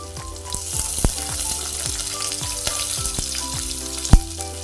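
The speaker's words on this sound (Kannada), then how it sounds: "ಮಿರ್ಚಿಯನ್ನು ಹಾಕ್ಕೊಳ್ತಾ ಇದ್ದೀನಿ" Chillies sizzle in hot oil in a pan for ridge gourd curry, a loud, even hiss with a few sharp clicks and faint tonal sounds in the background.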